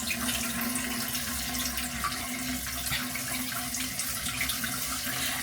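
Water runs steadily from a tap with a constant close hiss while hair is wetted, continuing unbroken throughout.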